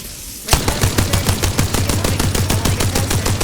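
Rapid automatic gunfire from Apex Legends aimed at an evac ship, a loud steady burst of closely spaced shots that starts abruptly and runs without pause.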